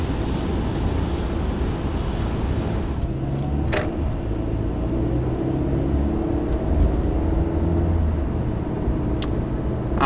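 A 2019 Mercedes-Benz A-Class sedan with a 188-horsepower engine drives along, its steady engine and road rumble continuous and fairly loud, with a few faint clicks and no talking.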